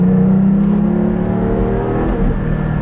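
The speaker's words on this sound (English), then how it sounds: "just this higher pitch, typical Porsche GT sound, which it should have had from the beginning" Porsche 718 GT4 fitted with a titanium exhaust revs loud and close, a sustained high-pitched flat-six wail holding steady for about three seconds with no talk.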